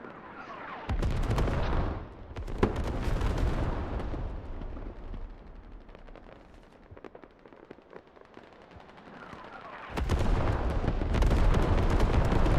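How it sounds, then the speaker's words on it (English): In a video game set in Afghanistan, artillery shells pound a position, giving a rolling roar of heavy blasts and rumbling impacts that fades in the middle, then surges back loud and close. "Artillery hitting the position."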